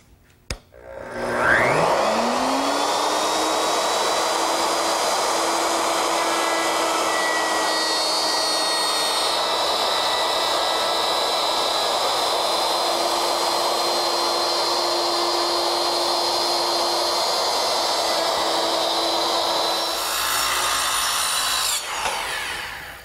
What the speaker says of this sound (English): I've installed a 3/8 inch spiral cutting bit in the router